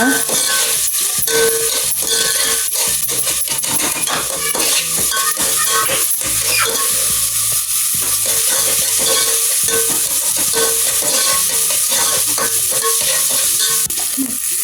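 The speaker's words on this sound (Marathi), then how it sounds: "टोमॅटो हे घालया सावया बरें भाजून घेवंक जाय" Tomatoes fry and sizzle in a pan for a Goan green chilli beef curry, a constant loud hiss broken by repeated scrapes and knocks of a spoon stirring, with no talking.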